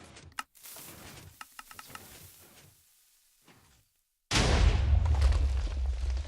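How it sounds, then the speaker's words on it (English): A missile slams into a tank in Minecraft and explodes, a sudden loud broadband blast that cuts in after a stretch of quiet scattered pops and holds as a dense, rumbling roar to the end. "If I calibrated it right, the tank should get hit by this missile here."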